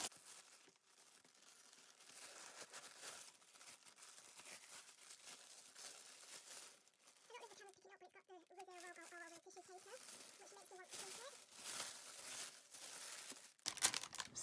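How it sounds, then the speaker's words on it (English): Packaging of a Liz Earle beauty gift set crinkles and tears close by in soft, intermittent rustling bursts, with a brief voice-like hum in the middle. "I'm just going to unwrap everything and show you everything that's in here"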